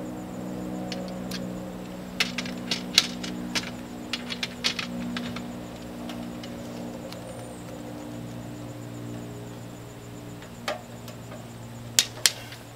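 A torque wrench on a 15/16 flare nut of a DIY mini-split heat pump line set gives sharp, light clicks, mostly scattered between 2 and 5 seconds and again near 12 seconds, over a steady low hum.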